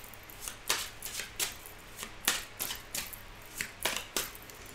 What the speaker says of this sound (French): on va tirer 3 cartes avec l'oracle des miroirs pour voir ce qui ressort